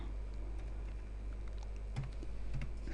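Computer keyboard typing, a quick run of soft key clicks over a steady low hum, fairly close and with no talking.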